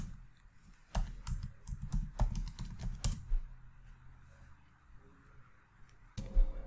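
Someone types on a computer keyboard in quick, uneven bursts of nearby clicking keystrokes, a short pause, then a final heavier keypress. The setup is a Linux terminal on an emulated ARM64 Raspberry Pi system.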